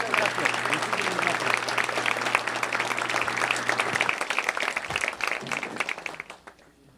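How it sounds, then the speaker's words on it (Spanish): Audience applause greets a university lecturer, Dr. Serafín Ortiz Ortiz, at the start of a keynote conference: dense, steady clapping over a low hum that thins and fades out near the end. "Les pido recibamos con un fuerte aplauso al doctor Serafín Ortiz Ortiz"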